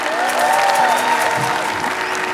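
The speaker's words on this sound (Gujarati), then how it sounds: "તાળીઓ તાળીઓ ગવન ગવન." An audience at a live comedy show applauds, a dense, loud, continuous wash of clapping from many hands that holds steady throughout, with faint crowd murmur beneath.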